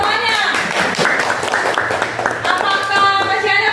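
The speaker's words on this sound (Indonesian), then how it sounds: "Tepuk tangan dulu semuanya." A classroom of students applauds together, a dense patter of hand claps running throughout, mixed with voices talking and calling out over it.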